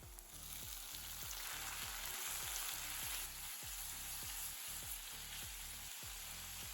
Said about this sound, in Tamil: நல்ல பொன்னிறமாக வதக்கிடலாம்.